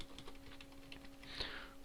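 Typing on a computer keyboard, a steady run of quick, light key clicks at close range over a faint constant electrical hum, with a slightly louder flurry near the end.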